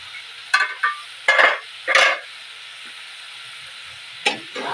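Eggplant sautéing in a pan for ginisang talong with egg: short bursts of loud sizzling rise and fade several times over a faint steady hiss.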